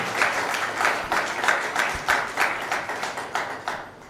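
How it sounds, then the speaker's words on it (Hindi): An audience at a youth event claps for itself, producing a moderately loud round of applause that settles into rhythmic, evenly spaced unison claps, roughly three per second, with no one speaking over it. "अपने आप के लिए एक बार ज़रूर ताली बजाएं कि आप में ऊर्जा है।"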